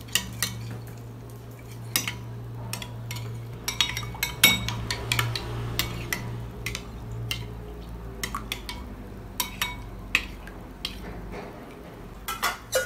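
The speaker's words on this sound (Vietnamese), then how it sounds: "Rồi, chúng ta trộn đều hỗn hợp." A utensil stirs a homemade cream mixture with fresh milk in a bowl, giving irregular, fairly quiet clinks and scrapes against the bowl over about thirteen seconds, alone without talk.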